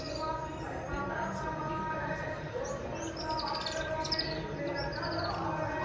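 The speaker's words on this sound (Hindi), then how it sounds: "ये इनमें से चिड़ियों की आवाज भी" Small birds chirping from a row of nests at a temple, scattered high tweets over steady background noise, moderately faint and close.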